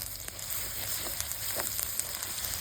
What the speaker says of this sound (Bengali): এবার মশলাগুলা ভালোভাবে কষে নিব।